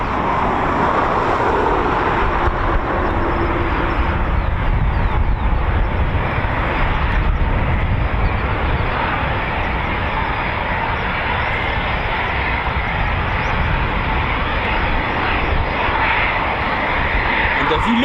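A Eurofighter Typhoon FGR4 jet of 12 Squadron at RAF Coningsby gives a loud, steady engine roar that holds without a break from start to finish.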